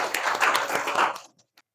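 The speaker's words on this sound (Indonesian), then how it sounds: "Kita beri aplaus untuk Dede" A short burst of applause from a small group in a teaching session, dense clapping for about a second before it stops abruptly, with a couple of stray claps after.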